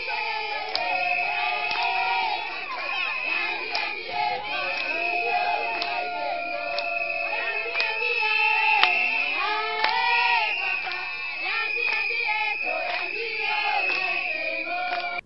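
A dense crowd of political supporters awaiting a Congolese parliamentary candidate at a rally in 2023 chants and shouts continuously, loud and close, with many voices overlapping in rhythmic cries throughout.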